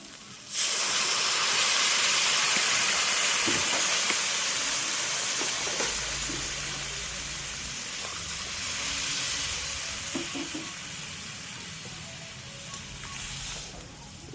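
Water poured into a pan of fried vegetables and dal for sabudana khichuri, a sudden loud burst of hissing steam that slowly eases into a softer sizzle.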